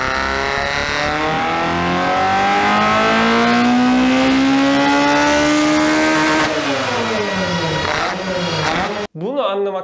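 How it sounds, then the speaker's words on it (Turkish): Car engine fitted with individual throttle bodies, its intake roaring loudly as revs climb steadily for several seconds, then dropping and rising again in short blips before a sudden cut. "İnsanlar genellikle bu ITB'leri taktıktan sonra inanılmaz güzel bir emiş sesine kavuşuyorlar."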